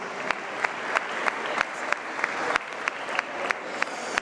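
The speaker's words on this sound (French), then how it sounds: "je crois qu'on peut raccompagner Darling Flower avec tous vos applaudissements" Audience applause at an equestrian dressage clinic for the horse, a steady wash of many hands clapping with a few sharper claps standing out at a regular pace, moderately distant and continuous throughout.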